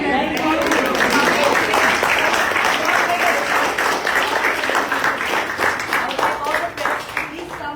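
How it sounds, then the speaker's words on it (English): Children and parents at a school gathering clap for themselves, a lively burst of crowd applause lasting several seconds, with voices mixed in beneath the clapping as it gradually thins out. "please clap for yourself"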